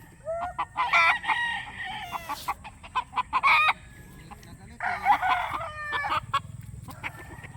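A Boston Black breeder rooster crows repeatedly and clucks in bursts, close and fairly loud, over a low rumbling background with faint voices.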